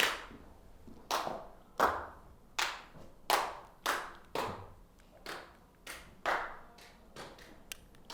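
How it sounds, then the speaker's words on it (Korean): A pastor claps his hands in a church leadership training room, about a dozen sharp, evenly spaced claps ringing out close and clear with no talk over them. "혹시 목사님께서 박수 한번 쳐주실 수 있을까요? 박수 한번."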